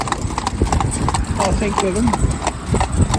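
Hooves of a pair of Friesian mares clip-clop steadily in a rhythmic, fairly close patter while a person talks over them throughout.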